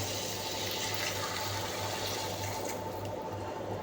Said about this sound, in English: And now we're going to add a glass of water,